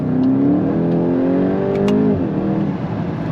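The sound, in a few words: turbo car engine revving, exhaust pops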